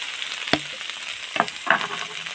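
Egg with canned fish stir-frying in a hot pan gives a steady, fairly quiet sizzle, broken by a few sharp scraping knocks of a utensil against the pan.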